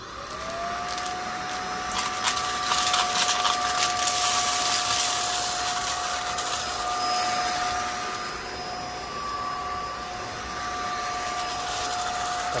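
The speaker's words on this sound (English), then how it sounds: "let's see how many times it takes to clean all this up here." A Zoker A10 cordless vacuum runs steadily while picking up spilled rice, its high motor whine holding a constant pitch over airy suction noise, with scattered ticks of grains being drawn in.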